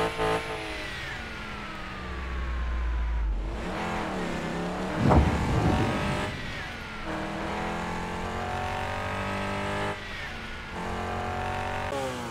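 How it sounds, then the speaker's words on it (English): Mazda MX-5 engine in the video game Car Parking Multiplayer, a harmonic engine note revving up and down through several rises and drops, with a brief louder burst near the middle, clear and close with no talking. "Mazda MX-5."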